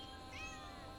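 A pet cat meows once, a single clear drawn-out call at close range over a steady background hum, during kitty treat time at home.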